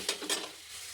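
Vegetables sizzle while being stirred into masala in a pan for a home-cooked potato and cluster bean dish, with two quick scraping stirs over a steady close frying hiss.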